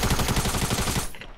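Rapid automatic gunfire in a shooter video game, a loud fast burst of evenly spaced shots lasting about a second before cutting off abruptly.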